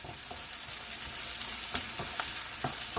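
Roughly chopped onions fry in a pan for a stuffed red pepper dish, giving a steady close sizzle with a few sharper crackles and pops throughout.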